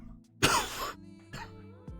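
A close, sharp cough bursts out, then two smaller coughs follow in quick succession, with no speech around them.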